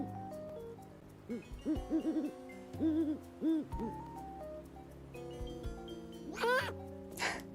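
A cartoonish owl in the Animal Crossing video game hoots in repeated soft, rounded calls over gentle game music, ending in a brighter squawk.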